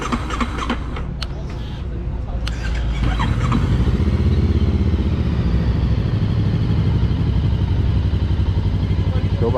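A Hanway YP500 motorcycle engine starts and settles into a steady, loud idle rumble close by, after a few clicks and handling noises at the start.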